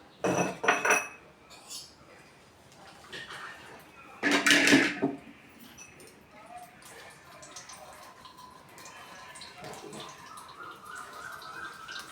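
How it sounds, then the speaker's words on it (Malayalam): Watermelon juice strained through a sieve in a kitchen, with sharp metallic clinks of utensils against a bowl, a second clattering burst, then soft trickling and scraping. "ഇനി ഒരു അരിപ്പയിലിട്ട് ഇത് അരിച്ചെടുക്കാം."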